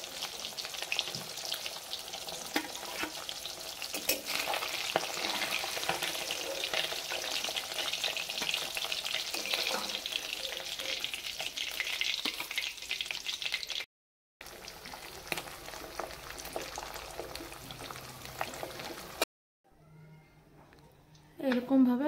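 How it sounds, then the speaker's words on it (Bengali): Pabda fish frying in hot oil, a steady loud sizzle and crackle running throughout with stirring, briefly cut by two short gaps; a voice speaks near the end. "তো আমরা এরকম হালকা ভাজি"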